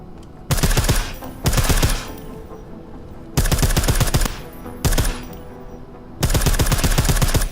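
Silenced automatic gunfire in Deus Ex: Mankind Divided, five loud rapid bursts of muffled, thudding shots separated by short quiet pauses, each burst lasting under a second or so.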